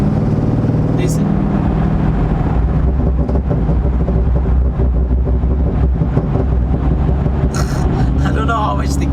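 Corvette LS V8 exhaust, recently repaired, rumbling steadily and loud throughout at idle with a low, continuous drone, while voices talk over it.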